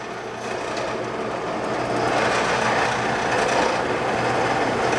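A Rivett 1020F lathe turning slowly in back gear at about 30 RPM, giving a steady rasping, rubbing drone with a faint squeal of its drive belt that builds slightly louder partway through, close and alone.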